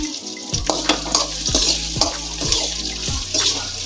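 Sliced onions frying in hot oil with a bay leaf, a steady close sizzle broken by regular stirring scrapes of a spoon against the pan, roughly every half second.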